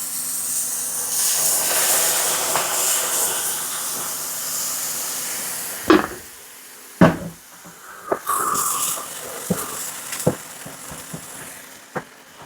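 Sauce for a no-noodle cottage cheese lasagna hits a hot pan, giving a loud steaming hiss that fades over several seconds, followed by a few sharp clanks and knocks of utensils and cookware.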